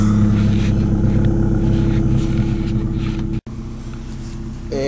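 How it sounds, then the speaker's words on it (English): A Ford Escort engine idles loud and steady with its muffler cut off, straight piped, giving a deep droning rumble with firm low harmonics. A brief dropout breaks it near the end before the idle carries on. "And I cut the muffler off, so I'll start it up."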